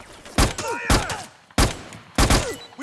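Four loud bursts of gunfire in Metal Gear Solid 4, evenly spaced about a second apart, each a sharp blast with a ringing tail over battle noise.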